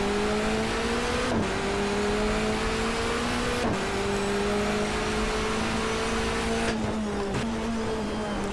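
Touring car engine in the GTR2 racing game, a V8 supercar-style machine, droning loud and steady with several sharp downshift blips and rev drops as it brakes through a chicane, no talking.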